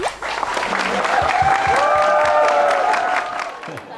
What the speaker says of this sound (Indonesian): Tepuk tangannya masih meriah, coba tepuk tangan lagi.